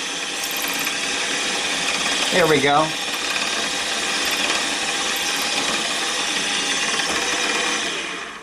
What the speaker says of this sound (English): let the drill bit find its center, and I'm going to go down and just touch and create a dimple